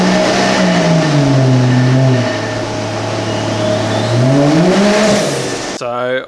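Holden Barra turbo engine revving hard on a dyno, pitch climbing and easing then surging again across the run before cutting off abruptly near the end, loud and close.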